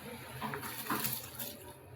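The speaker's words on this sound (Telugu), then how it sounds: "వాటర్ కాగినాయండి. ఇప్పుడు బియ్యాన్ని వేద్దాం." Rice poured into a pot of water already at a boil, giving a brief splashy, bubbling wash of sound at close range with no voices.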